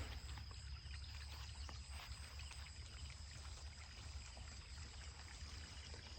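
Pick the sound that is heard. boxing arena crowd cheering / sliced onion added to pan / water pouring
water pouring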